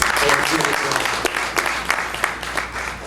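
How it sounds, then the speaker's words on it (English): A crowd at a National Coming Out Day community event applauds, a dense patter of claps with some louder hits, while voices murmur through it. "Please give them a round of applause."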